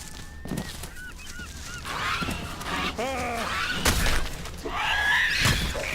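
A duck-like creature in the video game ELEX honks repeatedly in loud, wavering calls, mixed with crashing and shattering game effects and other background game sounds.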